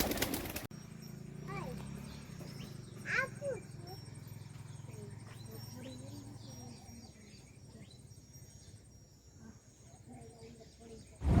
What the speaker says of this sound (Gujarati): તો આપણે જોઈએ કબૂતર